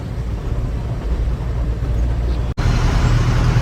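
Steady roar of heavy road traffic in Pune near Navale Bridge, with cars, buses and trucks rumbling close by in a continuous dense wash, broken by one brief dropout before the noise resumes.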